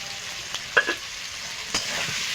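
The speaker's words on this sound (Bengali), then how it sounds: "আমি আলুটা একটু ভালো করে কষিয়ে নেব" Potatoes seasoned with turmeric and salt sauté in a pan for a fish and potato curry, giving a steady close sizzle with a few brief scraping stirs and no talking.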